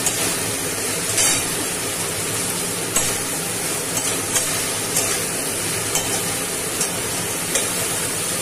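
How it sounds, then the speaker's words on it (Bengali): Fried pointed gourd (potol) is stirred in oily spice masala, giving a steady hiss of sizzling close up. Periodic scrapes of the spatula against the pan land at roughly one-second intervals. "এই যে পটলটা ভেজে রেখেছি এটা দিয়ে দিলাম। দিয়ে এটাকে আমি ভালো করে কষিয়ে নেব।"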